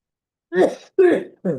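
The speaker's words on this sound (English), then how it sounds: "Sorry for my coughing." A few rough coughs or throat clearings from a man, three short bursts close to the mic with brief pauses between them.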